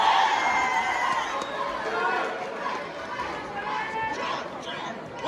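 A high school gym crowd at a jiu-jitsu match shouts, cheers and chatters continuously, a dense mix of many voices with some children's yells, moderately close.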